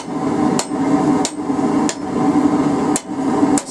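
Cross pin hammer fullering metal against the edge of an anvil while drawing out a forged feather: five sharp, ringing strikes at a slow, steady pace over a continuous background hum.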